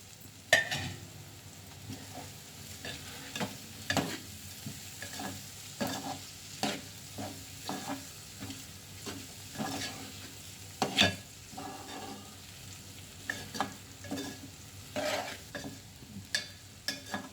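Small dried fish fry with turmeric in a pan, a soft continuous sizzle broken by frequent rhythmic scrapes and stirs of a spoon against the metal.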